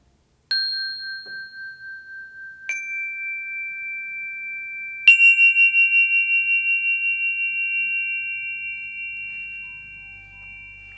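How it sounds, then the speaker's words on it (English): A meditation chime rings three times over about ten seconds, each clear, pure metallic strike layering onto the last and sustaining into a long, slowly fading tone, alone with no talking. "In this meditation, we'll begin and end with the chime."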